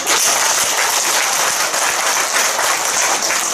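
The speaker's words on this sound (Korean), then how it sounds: "박수 한번 칩시다." Loud, close audience applause at a Buddhist alumni association teaching gathering and new-member welcome, a thick continuous burst of clapping filling the room with no talk.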